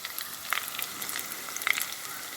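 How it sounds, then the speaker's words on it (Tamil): Spices crackle and sizzle in hot oil for a dry fish curry, a steady bright fizz with scattered small pops, close and fairly quiet, no talking. "எல்லாத்தையும் போட்டு நல்லா தாளிக்க விடுவோம்"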